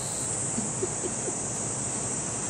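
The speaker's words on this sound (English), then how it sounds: "Cicada. Cicada. Cicada. Cicada. Cicada. Semi." Cicadas in Japan shrilling in a dense, unbroken high-pitched buzz that fills the air, steady and fairly loud, with a few faint chirps underneath.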